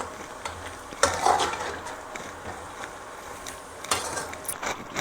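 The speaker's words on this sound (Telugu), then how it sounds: "ఒక్కసారి కలుపుకుండేయండి" A spoon stirs garam masala into dhaba-style paneer butter masala in a pan. Soft scraping and faint sizzling are broken by a couple of light clinks against the pot.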